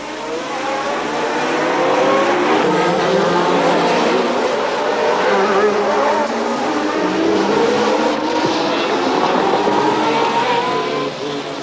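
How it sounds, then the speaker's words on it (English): Formula 1 race cars roar through the Long Beach street circuit in a continuous loud engine wail that rises and falls as they rev and pass. "Expensive engines revved hungrily in the hairpins."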